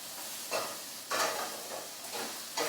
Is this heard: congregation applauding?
no